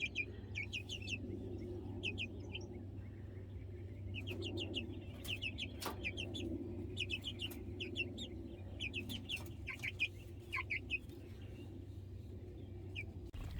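Several chickens cluck and chirp in short, scattered bursts over a low outdoor rumble, moderately close and fairly quiet overall.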